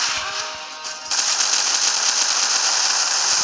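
Continuous rapid automatic gunfire in a video game, a loud dense rattle that grows stronger after about a second and holds steady to the end.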